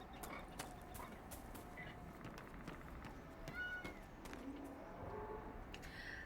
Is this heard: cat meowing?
yes